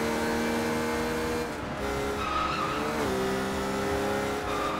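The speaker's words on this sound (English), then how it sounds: "Drift around the corner." A car in the Sleeping Dogs video game drifts around a corner, engine droning loudly with steady pitch shifts as the tires squeal and skid, continuous and close with no speech.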